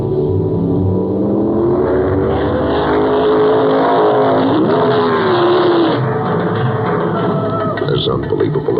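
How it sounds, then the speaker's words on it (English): A 1972 Ferrari Dino 246 GT drives with a steady, loud engine drone heard from inside the car, with a rise in revs partway through and a speaking voice over the noise. "prize package number 158 is a brand new 1972 Flaming Fire Red 246 GT Pininfarina Dino Ferrari."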